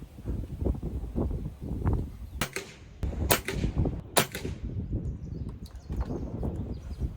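Pellet gun firing Axiom X hollow point pellets, with three sharp cracking shots a second or so apart over low rumbling background noise and muffled movement.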